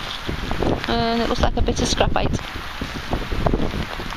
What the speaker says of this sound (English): It's really windy, raining.